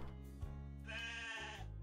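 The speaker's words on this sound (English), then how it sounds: "Sheep." Sheep bleating in the video game Shepherdmancer, a couple of drawn-out nasal bleats in quick succession, faint and alone.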